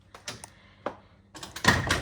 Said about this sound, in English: heading through the door, we've got a security screen door and a timber door here at the front.